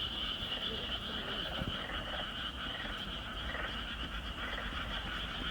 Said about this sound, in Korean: 아 여기 이게 지금 들리는 게 개구리 소리예요 개구리 소리 한번 들어보세요